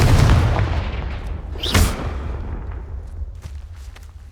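A Confringo spell blast in the video game Hogwarts Legacy: a loud booming explosion that rumbles and decays, then a sharp whooshing burst midway and a trailing low rumble.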